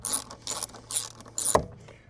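A ratchet tightens the bolts on the grip handles inside a Bronco. Short, close bursts of clicking repeat, and a single knock near the end.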